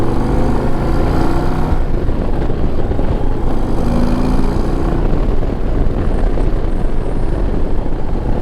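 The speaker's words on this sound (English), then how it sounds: "Oh man, this is a fast motorcycle" A 2025 Harley-Davidson Road Glide CVO ST, an 840-pound touring motorcycle with a 127-horsepower variable valve timing engine, roars steadily at highway speed with a loud, continuous engine drone and wind rush, no voices.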